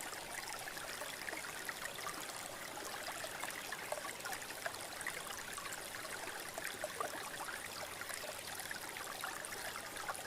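A river stream flows steadily in an outdoor nature setting, a continuous soft rushing and trickling wash of water at low, even level with no voices.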